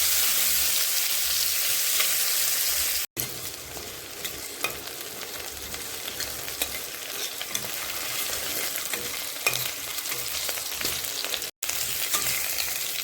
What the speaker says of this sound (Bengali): এর ভিতরে এই যে কেটে রাখা আলু সব দিয়ে দিলাম। এখন এই আলুগুলো ভেজে নেব লাল লাল করে।